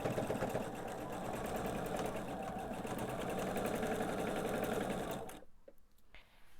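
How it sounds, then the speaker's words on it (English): A sewing machine stitches quilt blocks together at a scant quarter-inch seam, its rapid even needle chatter running close and steady for about five seconds before stopping abruptly, followed by faint handling noise. "we're going to sew these two together"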